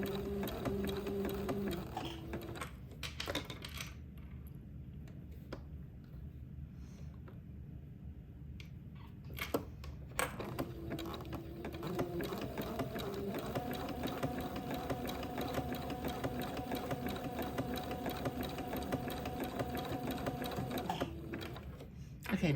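A sewing machine zigzag stitching lace onto a baby bonnet runs in stop-start spells, a quiet gap in the middle, then a steady rapid clatter that continues to the end.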